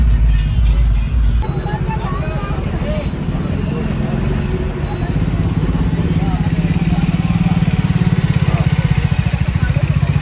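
Motorcycles and cars stuck in a full traffic jam on a one-way road near Jejuri, with engines idling and revving close by in a continuous rumbling clatter while people talk over it.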